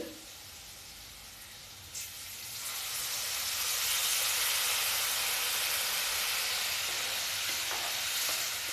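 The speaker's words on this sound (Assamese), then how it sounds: "এতিয়া মই ইয়াত পানী দিম" Water is poured into a hot pan of potato curry, setting off a loud, rising sizzle and hiss that swells after a brief clink and then holds steady and close.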